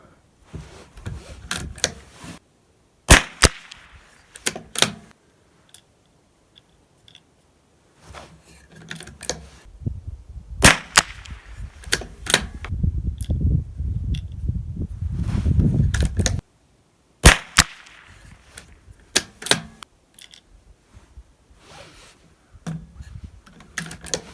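Ruger Precision Rimfire .22LR rifle shots from a 47 Products sled, several sharp separate cracks spaced seconds apart, with handling clatter and a stretch of rumbling noise between them.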